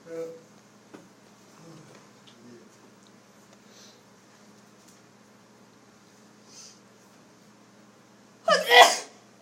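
A single sharp, loud sneeze bursts out near the end, close by, after a long stretch of quiet classroom tone with faint murmuring of a trigonometry lesson.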